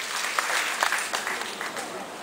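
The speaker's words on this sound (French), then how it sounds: "qu'on se fait un plaisir d'accueillir sur les applaudissements" A crowd at a town festival claps steadily in a dense, continuous burst of applause to welcome a guest, loud and close.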